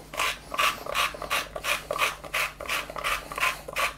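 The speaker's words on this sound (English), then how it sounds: "Now I've toasted a bit already, just in a dry pan like that. And I've got a grinder. I'm going to grind that in." Toasted cumin seeds are ground in a hand grinder, close and fairly loud, with about a dozen rhythmic rasping strokes evenly spaced and no talk.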